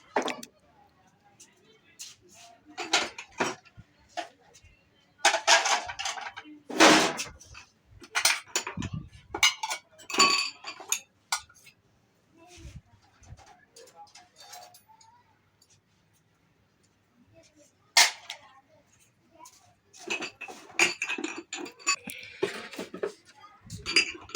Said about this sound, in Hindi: मैं बर्तन वगैरह रख देती हूँ